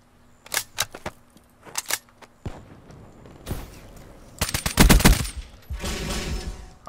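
Gunfire from a Call of Duty: Black Ops 3 match on the Gauntlet map, with sharp single shots early, then a dense burst of rapid automatic fire, followed by scattered trailing shots and clatter.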